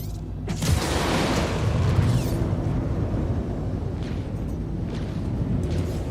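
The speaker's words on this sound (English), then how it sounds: "Fire missiles." Missiles are launched and detonate in a space combat game, Pisces Invictus, producing a heavy rumbling boom that swells and then stays as a sustained, dense roar of explosions for several seconds, loud and without speech.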